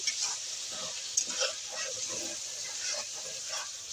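Chicken frying and browning in a pan for biryani, a soft continuous sizzle with faint stirring scrapes, quiet and close, with a brief voice passing under it.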